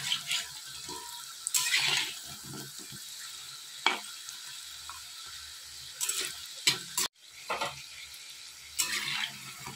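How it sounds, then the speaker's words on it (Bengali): Pakoras deep-frying in oil over a medium-low gas flame give a soft, steady sizzle, punctuated by several sharp bursts of crackling and a few clinks. "এই পকোড়াটা ভাজার সময় গ্যাসটা একটু মিডিয়াম লোয়ে ভাজতে হবে"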